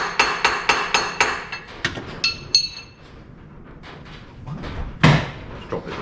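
A stick raps repeatedly on the starter motor of a Volvo 340 abandoned for 25 years, a quick run of sharp metallic knocks followed by a few scattered clanks and one louder hit, close by in a quiet garage.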